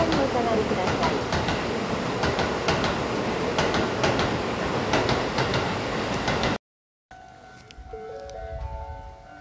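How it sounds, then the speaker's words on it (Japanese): A loud, sustained roar of a train rushing past a platform at close range with rhythmic rail clatter, then a cut to quieter station tones. "電車が通過します。"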